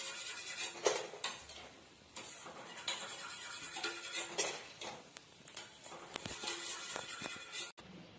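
A metal ladle is tapped repeatedly against a pan edge while kara boondi batter drips into hot frying oil, giving sharp irregular clinks over a steady bright sizzle.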